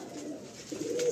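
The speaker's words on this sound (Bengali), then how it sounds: "এতগুলো পায়রার মধ্যে একটা পায়রা জাস্ট এখানটায় বসে গেছে" Pigeons at a pigeon market in Kolkata, soft low cooing repeated in a short burst, close and fairly quiet with no talk over it.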